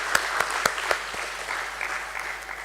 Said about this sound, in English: Let's celebrate with an applause.